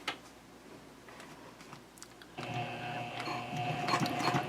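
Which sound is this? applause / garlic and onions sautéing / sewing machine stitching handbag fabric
sewing machine stitching handbag fabric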